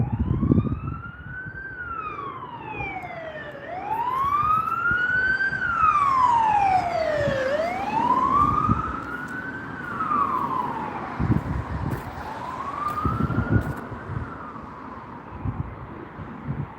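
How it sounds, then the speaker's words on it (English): An ambulance siren wails in slow rising and falling sweeps, loud and steady, as if passing close by on the road, with faint traffic rumble beneath. "Ambulance."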